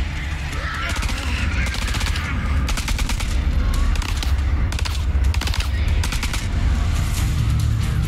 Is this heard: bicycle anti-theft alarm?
no